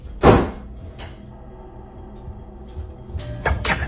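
A bedroom door moving on its own and banging, with one loud close thump, a softer knock a moment later, then more rattling knocks toward the end in a quiet room.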